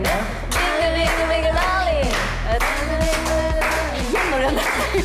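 Steady rhythmic hand claps keep time as a count-in for a song, sharp regular beats heard close against singing voices.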